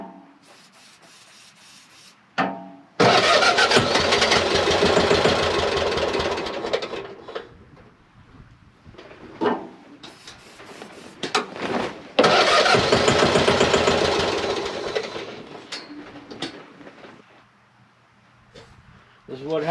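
A utility vehicle engine left sitting with ethanol fuel cranks in two long, loud, grinding bursts of several seconds each without catching, with quieter gaps between.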